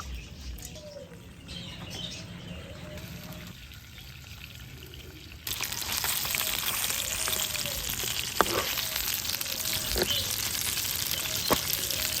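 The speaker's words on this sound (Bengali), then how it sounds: "এটাকে একটু লাল লাল করে ভেজে নিলাম" A rohu fish head fries in a pan, a steady sizzle that jumps louder and brighter midway as oil crackles, with faint bird chirps in the background.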